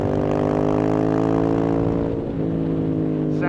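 A Ducati Monster S2R with a 2-valve engine and aero exhaust, a steady close raspy drone with a slight dip in pitch midway, alone without speech.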